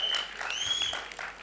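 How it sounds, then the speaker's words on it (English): Audience applause at a Bollywood song launch event, a steady wash of clapping lasting about a second and a half at moderate level, with a bright whistle-like tone running through it. "A big round of applause for him."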